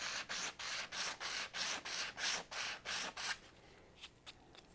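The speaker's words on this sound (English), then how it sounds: "this sandpaper's fairly coarse, and this plastic" Coarse sandpaper is rubbed over sharp plastic corners to round them during an electric guitar setup, giving about ten steady back-and-forth scrubbing strokes up close, then a few lighter, fainter passes.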